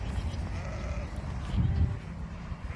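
Sheep bleat near livestock guardian puppies in a farm pasture, a couple of short bleats rising midway over steady low outdoor rumble.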